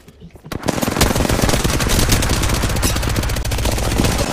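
Rapid automatic gunfire in the Apex Legends video game starts after a brief quiet moment. It then hammers on in loud, continuous bursts of closely spaced shots, heard close and dominant throughout.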